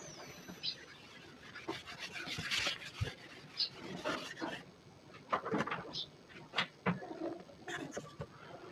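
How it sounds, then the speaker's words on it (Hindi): A board is wiped with an eraser during a classroom lesson, producing uneven bursts of scratchy rubbing strokes at moderate distance. "अब मैं इसको इरेज करता हूँ, रब करता हूँ।"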